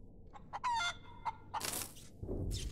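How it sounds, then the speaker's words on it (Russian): A chicken in the space-survival game Breathedge clucks in short repeated calls, then breaks into a louder crowing burst near the end, heard faintly and alone. "Вечная курица моя, любимая."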